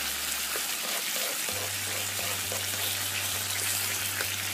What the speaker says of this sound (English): I'm ready to add my teriyaki sauce to my mushroom on my grill.